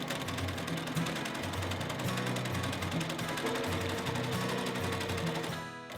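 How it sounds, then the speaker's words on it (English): A Juki TL-2010 sewing machine stitches fabric in a fast, continuous mechanical chatter, close and steady, stopping abruptly at the end. "my sewing machine is a Juki TL-2010"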